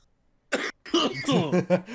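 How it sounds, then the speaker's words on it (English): A person coughs several times in short, rough bursts close to the microphone, with a throaty rasp between them. "I keep coughing"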